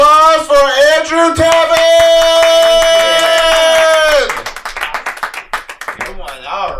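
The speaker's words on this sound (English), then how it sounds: "Give a round of applause for Andrew" In a comedy club at Shakers, a host's long, drawn-out shout introduces a comedian, then the audience breaks into scattered clapping and whoops that fade and flare.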